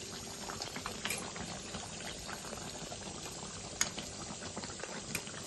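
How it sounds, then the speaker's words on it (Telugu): Chicken curry with added water simmers in a pot, a steady soft bubbling and gurgling with small pops, continuous and fairly quiet, with no talking. "కూర దగ్గరకు అయ్యేంత వరకు ఉడకనిద్దాం"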